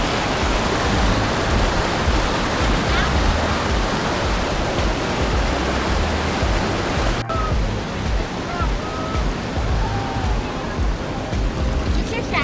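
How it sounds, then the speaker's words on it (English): A rough stretch of river rapids near Mammoth Lakes, California, rushes loudly and steadily close by in a dense broadband roar, with voices faintly mixed in. "This is just a really rough part of the river"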